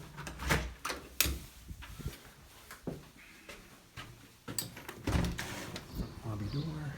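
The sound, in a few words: lobby door opening and closing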